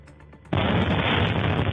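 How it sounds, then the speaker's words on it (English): An air defense missile striking a residential apartment building in the Belgorod region, a single sudden loud blast that cuts in after a quiet moment and rolls on as a broad, sustained roar. "the much vaunted Russian air defense system hit a residential building in the Belgorod region with a"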